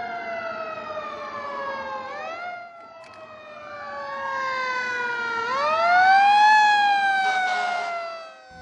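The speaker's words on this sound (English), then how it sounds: "When emergency vehicles approach, always give them the right-of-way." An emergency vehicle siren approaching on the road, wailing and sweeping up and down in pitch, growing louder as it nears, heard alone with no talk.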